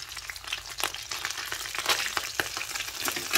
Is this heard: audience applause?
no